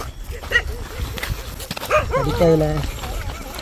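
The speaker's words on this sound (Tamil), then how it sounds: "சுற்றி பாதுகாப்புக்கு நாய் இருக்குது. குலைக்கிற சவுண்டு கேட்குதா?" A guard dog barks a few times somewhere near a hill shrine path in Tenkasi, short sharp barks mixed under people talking and shuffling on the trail.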